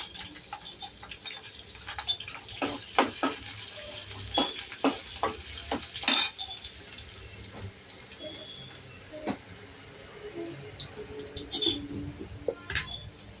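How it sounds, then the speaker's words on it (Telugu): Onions go into a pan for egg masala curry, giving soft sizzling with scattered clicks and scraping taps from stirring. The sounds are close but fairly quiet and uneven, with no talking. "ఇప్పుడు ఉల్లిగడ్డలు కూడా యాడ్ చేసేస్తున్నాము"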